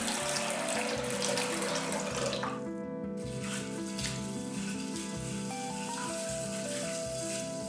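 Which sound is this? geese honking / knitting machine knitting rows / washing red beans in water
washing red beans in water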